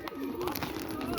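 Racing pigeons cooing inside their loft, a soft throaty warble close by that runs through the whole moment over a busy background.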